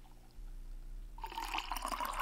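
Water running and splashing into a cup as it gets washed in the video game Barista Simulator, starting quiet and swelling into a steady pour and wash partway through.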